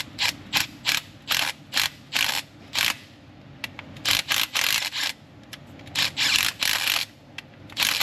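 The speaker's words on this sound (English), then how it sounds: "I'm gonna get a little impact so we can speed this up some." An impact gun hammers a bolt used as a tap in short, rattling bursts, about a dozen sharp on-off runs spaced with brief pauses, loud and close.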